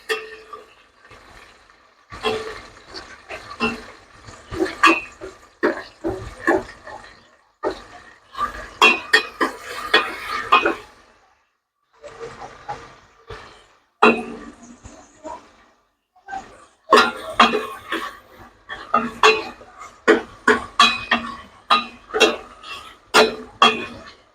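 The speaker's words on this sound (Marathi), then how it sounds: "त्याला थोडंसं मी चांगलं हलवून घेतो" Khichdi being stirred in a home cooking pot, giving repeated clinks and scraping knocks of a spoon against metal in uneven bursts, close and fairly loud, with brief pauses between rounds of stirring.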